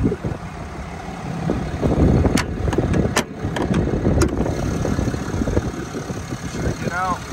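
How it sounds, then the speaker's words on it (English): A 2024 Ram 2500 Limited Longhorn turbo diesel idles up close in a steady low rumble, with someone talking over it and a few sharp clicks. "Show you guys this turbo diesel."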